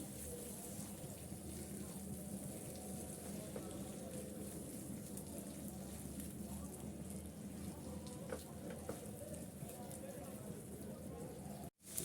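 Chopped small shrimp with green chillies and spices sautéing in a pan, a faint continuous sizzle and light frying hiss, steady and low-level throughout with occasional soft clinks.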